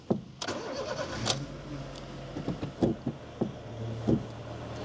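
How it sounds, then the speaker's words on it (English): A worn car with 138,000 miles idles with a clutch thrust bearing fault, giving a low, steady engine hum with a faint whine and scattered knocks and clunks close by. No one speaks. "we've got a thrust bearing noise in the clutch"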